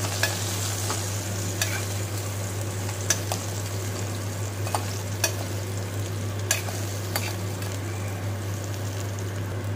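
Ridge gourd stirs in hot oil inside a pressure cooker, giving a continuous sizzle punctuated by sharp spoon scrapes and clicks against the metal, over a constant low hum.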